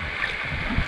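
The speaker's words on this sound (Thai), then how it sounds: "เสียงน้ำตกมันดังกว่าพูดดัง" A Ratchaburi waterfall gives a steady, fairly faint rushing hiss of falling water, continuous and unbroken, with no voices over it.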